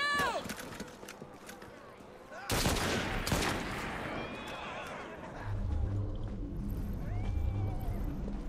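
A sudden loud volley of gunshots from Assassin's Creed Syndicate breaks out after a quiet stretch and fades into rumbling clatter, with voices talking underneath.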